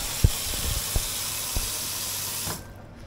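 Water runs steadily from a tap onto a hot pan with a hissing rush and a few light knocks, then cuts off near the end.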